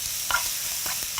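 Onion and carrot stir-fry in a splash of cooking oil, a soft steady sizzle with a few brief scraping stirs of a utensil in the pan, close and fairly quiet.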